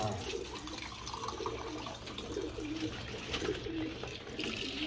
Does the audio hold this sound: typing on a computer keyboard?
no